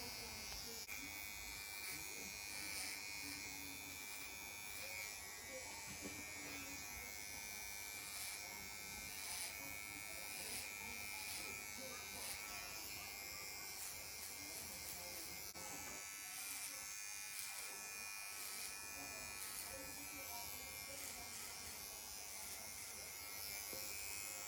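A VGR 082 Super Trim electric hair trimmer, fresh out of the box, runs with a steady, close high-pitched buzz that holds for the whole stretch, with only a brief dip partway through.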